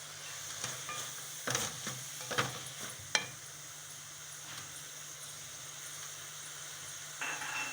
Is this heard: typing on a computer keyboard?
no